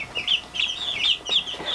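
Buff Orpington bantam chick making rapid, high-pitched chirping clucks in quick repeated bursts, close and fairly quiet.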